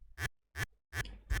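A quiet kick drum crunch layer built from a reversed tail with a fade-in, heard as three short gritty bursts separated by silence, with a faint noisy smear after the third.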